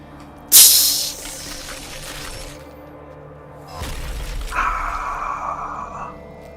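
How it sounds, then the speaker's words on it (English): A loud, sudden shatter bursts out early, as though a crystal statue is breaking, followed by a fading hiss and later a swelling spray-like rush of sound with no talk over it. "just the sound of shattering crystal"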